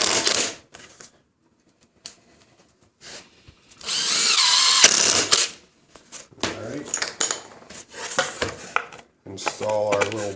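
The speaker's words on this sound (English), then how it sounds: "So I'm going to throw a couple screws in there so I don't have to wait for it to dry." A power drill runs in short bursts, then in one long whining run, driving screws into wood for a simple DIY saw blade storage rack, with clatter and a voice talking between the bursts.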